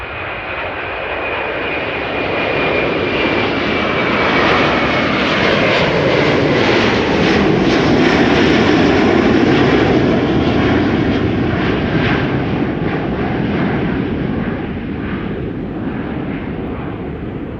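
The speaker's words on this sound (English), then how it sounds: "Delta Airlines Flight 237 to Tampa in Florida. A330-300, next departure here." A 21-year-old Delta Air Lines Airbus A330-300 bound for Tampa takes off from Schiphol with a loud, building jet roar that swells, peaks and slowly sweeps past, its whine shifting in pitch, with no voices.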